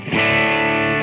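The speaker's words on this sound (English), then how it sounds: "this is your standard Bluesy Crunch tone" Electric guitar played through a BOSS eBand JS-10 with a bluesy crunch tone: a single loud, sustained chord, gritty and mildly distorted, ringing out alone and fading only slightly.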